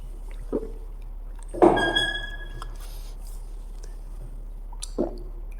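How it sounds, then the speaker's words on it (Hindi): A person takes a drink of water during a physics class, giving a few close, wet gulps and sloshing swallows, one prominent burst in the middle and softer ones at either end, with no talking. "ट्राई करके मैं पानी पी लूँ।"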